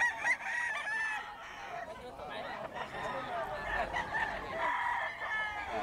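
Kelso gamefowl stags and roosters at a market crowing and clucking repeatedly at mid distance, several birds overlapping under steady talk.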